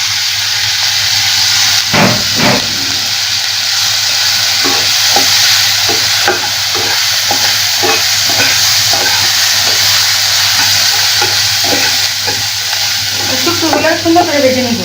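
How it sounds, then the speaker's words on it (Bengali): Dried shrimp sizzle steadily as they fry in a pan, with a broad continuous hiss and repeated scraping stir strokes throughout, close and loud; a brief voice is heard near the end. "শুটকিগুলো সুন্দর করে ভেজে নিব"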